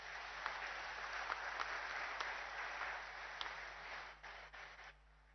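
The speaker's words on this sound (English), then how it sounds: "Have some claps." An audience clapping at an inauguration event at HAL, a steady wash of applause heard at a distance and through a narrow band, with a few sharper claps before it fades out.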